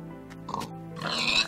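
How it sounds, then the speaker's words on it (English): Pigs oink in a farming video game, a few short grunting snorts at moderate distance over steady game background music, with no talking. "Pigs have been spawning a lot."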